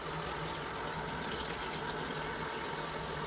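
Running water pours steadily over vegetables under a tap, a constant broadband rush with no talk.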